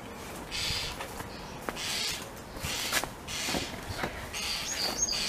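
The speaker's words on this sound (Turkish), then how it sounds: "Video boyunca duyacağınız kuş sesleri bir efekt değil arkadaşlar. Gerçekten bahçenin kuşları." Garden birds call and chirp by a lake outdoors, with scattered brief tweets and calls over a soft background hiss, moderately distant and fairly quiet.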